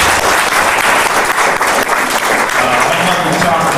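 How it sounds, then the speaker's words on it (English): Dense, loud audience applause at a library lecture fills the whole stretch as a steady wash of many hands clapping, with no voices breaking through. "So big hand of applause to Sean Duffy."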